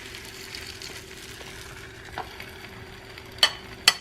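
Egg-soaked bread fries on a Dash mini griddle with a soft, faint, steady sizzle, broken by a few sharp clicks near the end.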